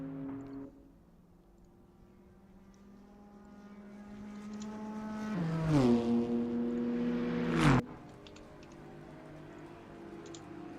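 A high-revving Lotus race car engine in a GT4 America virtual race at Road America screams past, pitch climbing and dropping sharply as it passes, over a steady lower engine drone.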